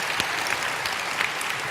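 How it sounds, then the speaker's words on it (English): An audience at Minecon 2013 claps and cheers in steady, dense applause, moderately loud, with no talking over it. "a big round of applause for Dinnerbone."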